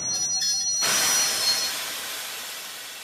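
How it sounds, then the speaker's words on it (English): A train grinds to a stop as a steady broadband rush of wheels and carriage noise sets in abruptly and then holds at a fairly loud level, with no voices. "After 3 days, the train stops."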